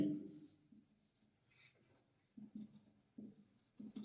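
Marker or chalk scratches across a board during a physics lesson on reflection of light, short strokes in bursts, faint and close, with a teacher speaking over them.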